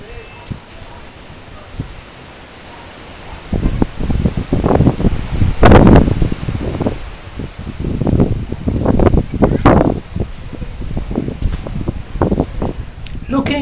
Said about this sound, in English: A sudden gust of wind